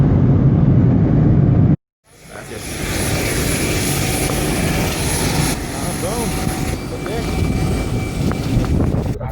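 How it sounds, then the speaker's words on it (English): Steady aircraft engine roar at an airport, a broad loud drone with a high whine on top that continues without a break after a short silent cut near the start. "hanging out at the airport."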